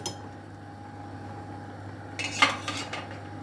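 A metal spoon clinks and scrapes against a pot and dishes in a kitchen where green lentil soup is cooking, a short burst of bright clatter after a quiet stretch, close and without speech.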